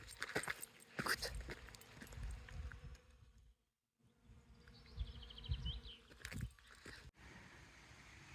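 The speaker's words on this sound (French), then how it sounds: "T'entends bourdonner de tous les côtés, ça se régale de partout là, les petits pollinisateurs." Bees and other pollinating insects buzzing around flowers on a volcanic hillside trail in the Esterel, a faint continuous hum with footsteps and outdoor rustling, briefly cut by a short silence.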